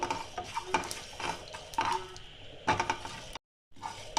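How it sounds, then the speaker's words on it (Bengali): Pav bhaji spices dry-roasting in a pan and being stirred, giving repeated scraping, clattering strokes at close range, with a short moment of silence near the end. "এগুলো একটু ভেজে নেব, যতক্ষণ না একটা ভালো গন্ধ আসে ততক্ষণ আমি এটা ভাজবো।"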